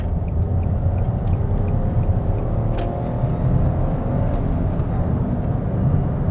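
Interior drone of a 2017 Nissan Micra 1.0 turbo with 90 hp being driven, a steady low engine and road rumble with tire noise, constant and fairly loud throughout.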